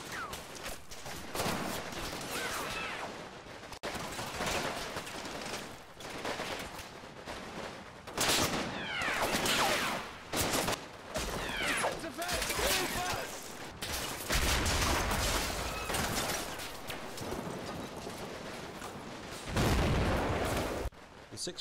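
Mortar rounds and gunfire crash across a Normandy battlefield in Combat Mission Battle for Normandy, with repeated sharp bursts, rattling volleys and heavy thuds spread irregularly over the stretch, some close and loud, others more distant.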